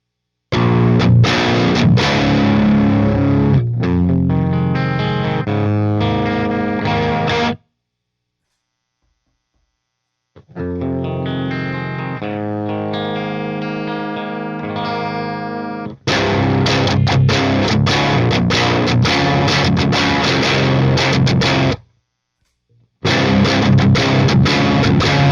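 Distorted electric guitar played through ENGL Inferno and Ceriatone Leviathan tube amps with no overdrive pedal, alternating between the two amps in loud chugging riffs and ringing chords, with brief silent gaps between passages.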